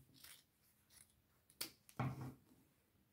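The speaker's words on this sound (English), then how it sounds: "And now I'm just cutting it out." Scissors snip through fabric for a bag project, giving faint, close cutting sounds with a few sharper snips and a louder crunch near the end.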